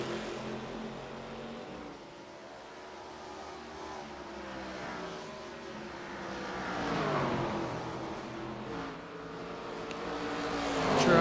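ARCA Series stock cars roar past on a NASCAR track, a steady engine drone that swells and fades as cars pass, with a louder surge at the end.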